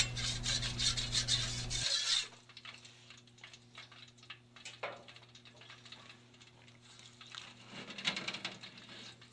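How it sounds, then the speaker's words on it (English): A Teflon brush scrapes the heating elements of a Collectramatic PF model pressure fryer, giving a rasping, rubbing scrape that is loudest at the start, then quieter, irregular scraping over a low steady hum. "use the Teflon brush to scrape the heating elements"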